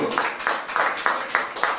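A church congregation claps in praise to the Lord, a steady rhythmic beat of many hands roughly three claps per second, dense and close, with a faint murmur of voices underneath.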